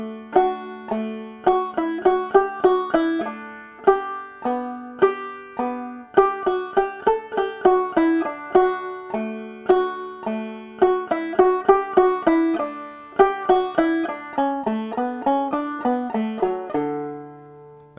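Clawhammer banjo plays the A part of the fiddle tune Liberty, a steady, bright stream of plucked and brushed notes in bouncy rhythm, solo and close, with no voices over the music.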